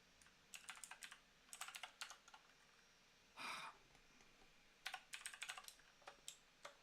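Rapid bursts of typing on a computer keyboard during a live editing stream, clattering keystrokes in clusters separated by pauses, with one brief breathy noise midway; close and fairly loud, no talk.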